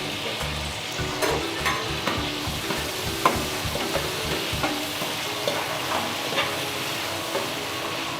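Coriander and mint leaves fry in about three-quarters of a litre of oil, with a steady close sizzle and repeated scraping stirs and clinks of a spoon against the pot, and no voices.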